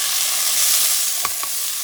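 Shrimp frying in oil over medium heat give a continuous soft sizzle, with a couple of brief sharper pops near the end.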